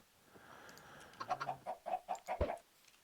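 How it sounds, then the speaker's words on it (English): Minecraft chicken spawned from a thrown egg in a vanilla 1.17.1 hardcore world: a run of short clucks in a steady rhythm, close and clear, with no talk over them. "We got a chicken out of the second one."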